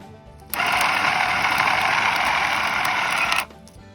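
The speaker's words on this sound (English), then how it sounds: "I'm just going to use it to make the motor turn" A small electric motor powered by a quadcopter battery spins up abruptly. It gives a steady, loud, high-pitched whine for about three seconds, then cuts off just as suddenly. The motor is close up, with no voices.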